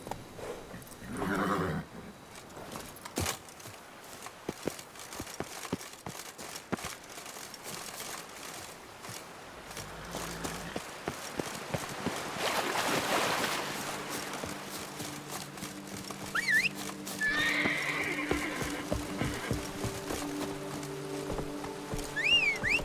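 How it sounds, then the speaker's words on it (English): Horse neighing and galloping hooves in the video game The Witcher 3, with repeated clip-clop hoofbeats building into a steady run and a whinny standing out over game music and ambience. "Run, Roach"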